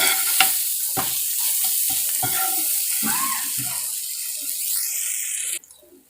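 Tomato, onion and masala fry in a pan with a continuous close sizzle. Spatula strokes scrape and stir through it, and the sound cuts off sharply near the end.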